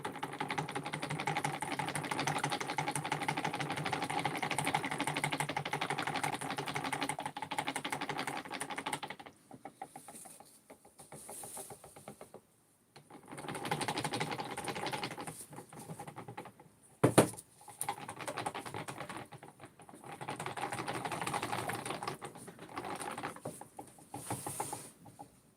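Cold process soap mixture is whisked in a bowl, giving a quick, busy patter of wire strokes up close for about nine seconds. Shorter bursts of stirring follow between pauses, with one sharp knock partway through.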